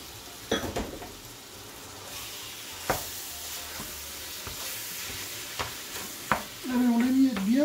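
Ground lamb and softened onion and vegetables frying in a pan for shepherd's pie, with a steady close sizzle and several sharp scraping stirs and utensil knocks, rising to a louder frying hiss at the end.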